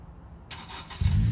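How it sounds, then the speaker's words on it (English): A push-button-start car fires up via key fob remote start, a brief quiet lead-in giving way to a broadband crank and a low engine rumble that settles into a steady idle close by. "And the car is going to start."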